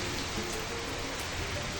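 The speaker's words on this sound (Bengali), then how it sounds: "জানলায় একদম ঝড় বৃষ্টি শুরু হয়ে গেছে এখন" Heavy storm rain pouring steadily outside a window, a dense, even hiss of downpour that holds at constant loudness with no voices.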